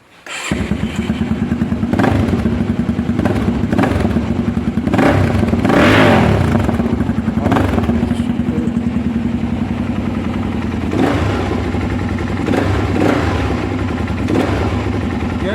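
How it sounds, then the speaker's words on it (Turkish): A Mondial Xtreme 250 motorcycle engine with its stock exhaust idles and revs repeatedly, loud and close, with throttle blips rising and falling over a steady clattering rumble. "motorun orijinal egzozu bu arada"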